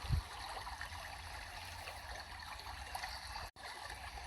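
A river flows in a soft, continuous rush of water with faint gurgles and trickles, heard steadily and at a distance, with no talk.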